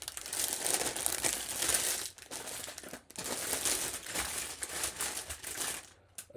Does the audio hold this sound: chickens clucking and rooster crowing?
no